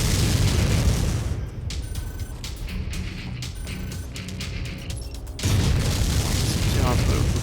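Loud booming blasts from cannon fire in MechWarrior 5: Mercenaries, with bursts of explosive noise at the start and again near the end, mixed with mechanical game sounds.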